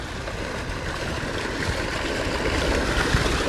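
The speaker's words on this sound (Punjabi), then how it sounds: "ਖਾਲੇ ਵਿੱਚ ਦੀ ਪਾਣੀ ਜਾਈ ਜਾਂਦਾ" Irrigation water runs steadily through an open field channel in a mulched wheat field, a continuous close rushing and gurgling wash that holds even throughout with no voices.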